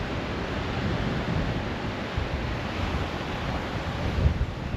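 Strong wind blows along the ocean shore near Broome, making a steady, broad rush of buffeting microphone noise that mixes with the wash of surf, continuous and close, with no voices.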